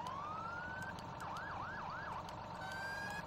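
Police car sirens from a Farming Simulator 17 vehicle mod, cycling through several tones: a rising wail, then a fast yelp warble, then the wail again, steady and loud over a constant engine-like hum.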